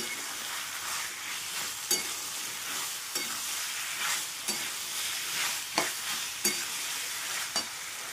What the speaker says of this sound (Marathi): आणि आता 9 मिनिटं फ्राय करणार मस्तपैकी